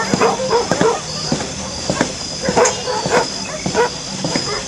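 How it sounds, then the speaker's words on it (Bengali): A pack of dogs barking at night, repeated short barks and yips overlapping in an irregular rhythm, fairly close and loud against a steady background hiss. "কিছু কুকুরের দল ভেউ ভেউ করতে করতে চলে যাচ্ছে"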